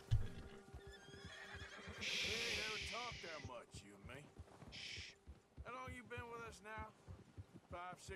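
Horse in the Red Dead Redemption 2 video game whinnies with rising, warbling neighs, alongside steady clip-clop hoofbeats and a low throbbing hum, with a voice talking over it.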